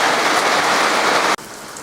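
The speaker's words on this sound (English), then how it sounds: "I think it came down in the form of hail." Hail from a supercell storm pours down in a dense, loud, steady hiss of impacts, cutting off abruptly near the end to a quieter background.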